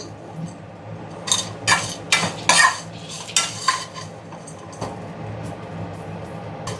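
Curry leaves dropped into a hot pan for a chutney, with a series of sharp metallic scrapes and clinks from a spoon stirring, over a faint background sizzle.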